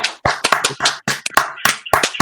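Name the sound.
clapping sound effect track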